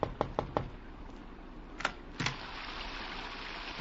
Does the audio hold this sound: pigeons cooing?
no